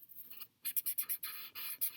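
Eraser rubbing back and forth on paper to lighten dark pencil shading, heard as a series of close, short scratchy strokes in quick succession after a brief pause, alone with no talk.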